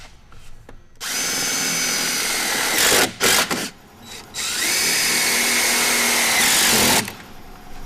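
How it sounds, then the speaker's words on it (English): A power drill drives screws into a sprocket bracket on a desiccant dehumidification cassette, with two long, loud whirring runs split by short stop-and-start bursts, no talking. "Go ahead and drop a couple of screws in it."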